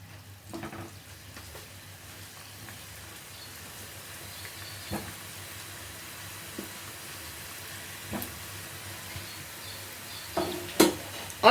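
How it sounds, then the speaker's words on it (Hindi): Suji biscuits frying in oil in a pan on a low flame, a soft continuous sizzle with occasional sharp clinks and scrapes of stirring growing more frequent toward the end, no talk. "और चलिए बचे हुए बिस्किट को भी फ्राई करते हैं।"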